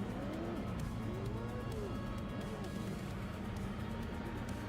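A 6.2 LS V8 fitted with a Magnuson supercharger, driven in the Automobilista 2 racing sim, gives a faint, steady engine drone whose revs rise and fall in short sweeps.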